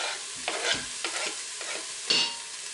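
Ingredients sizzle in an Instant Pot for lasagne soup, a soft crackling fry broken by several scraping stirs at irregular intervals, fairly quiet and close with no talking.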